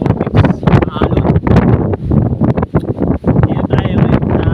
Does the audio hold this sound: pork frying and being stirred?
no